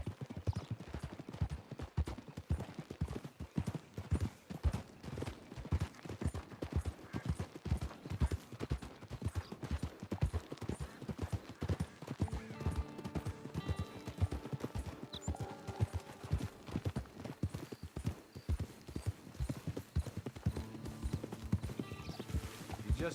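Horse hooves clip-clop steadily in Red Dead Redemption 2, a fast regular trotting rhythm, fairly quiet and close, carrying on without pause with faint talk now and then.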